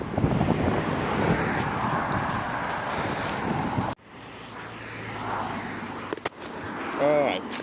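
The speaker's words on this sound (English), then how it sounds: "It's slightly windy today, it has to be said." Wind gusting across a microphone on a roadside beside a roundabout with traffic cones makes heavy, rumbling buffeting for several seconds. It then drops abruptly to quieter gusts, and a voice is heard briefly.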